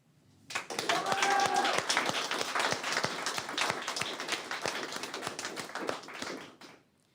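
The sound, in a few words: audience applause at an awards ceremony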